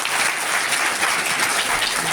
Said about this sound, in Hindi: तालियां बजा बेटा, तालियां बजा